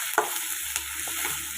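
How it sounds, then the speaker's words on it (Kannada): Capsicum fries in oil while being stirred, giving a soft steady sizzle with a few brief scraping clinks of a spoon in the pan. "ಇದನ್ನು ಇವಾಗ ಚೆನ್ನಾಗಿ ಫ್ರೈ ಮಾಡ್ಕೊಬೇಕು. ಕ್ಯಾಪ್ಸಿಕಮ್ಮು ಎಣ್ಣೆಯಲ್ಲಿ ಚೆನ್ನಾಗಿ ಬೇಯಬೇಕು"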